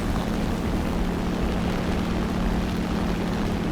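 A Ki-44 fighter plane engine in War Thunder drones in a dense, constant propeller roar, loud and close, with no change in pitch and no voices.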